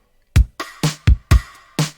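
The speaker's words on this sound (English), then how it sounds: "And then we had some drums as well that sounded something like this." A synthwave drum track plays alone: seven punchy, close hits alternate between deep booming kicks and bright, reverberant snares in a steady mid-tempo rhythm.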